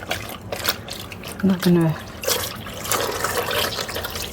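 Cold water runs from a tap while knitting is being wet for blocking, a continuous soft hiss and splash that holds throughout as someone talks over it.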